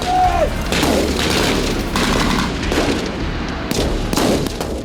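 Heavy gunfire and booming explosions in Ukraine war footage, loud and dense, with repeated blasts over a constant roar of combat.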